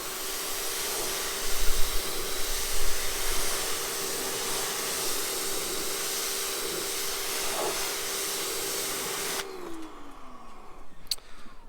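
A hose or pressure-washer stream sprays water across a car, rinsing suds off its surface with a loud, steady hissing rush that drops away sharply near the end.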